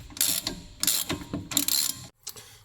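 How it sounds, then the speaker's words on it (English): Ratchet working a bolt loose where the strut meets the wheel hub on a campervan, three short bursts of quick clicking close up, the last one brief after a pause, with no talk. "I am removing this bolt from that's holding the strut to the wheel hub."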